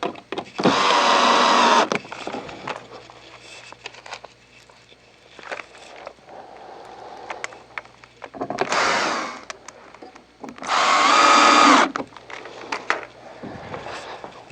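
A power drill drives screws into the control board housing of a Phoenix R250, with two loud whirring bursts of a few seconds each and a brief spin between them, separated by quieter stretches.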